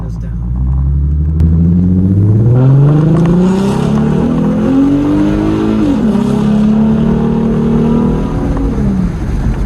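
A V6 Mustang fitted with shorty headers accelerates close by, its deep exhaust rumble rising steadily in pitch through a gear change and then holding as the car pulls away, loud throughout, with voices in the background.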